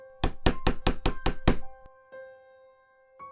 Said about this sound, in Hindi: फिर से दरवाजे पर दस्तक हुई।